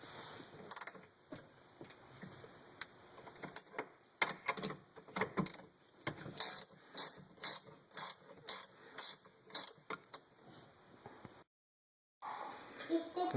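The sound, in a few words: metric size 10 wrench loosening factory module bolts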